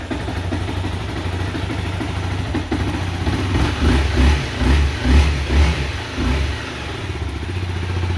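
A 2012 Honda CBR 250R motorcycle engine fires up and runs close by, settling into a steady idle broken by a few quick throttle blips in the middle before returning to a low, even idle, with no talking.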